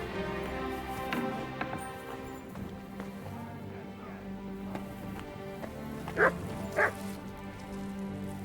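Barks from Mutt, a dog in the video game Kingdom Come Deliverance II, come as a few short, loud yelps near the end, over a steady game ambience of rain and clopping hooves.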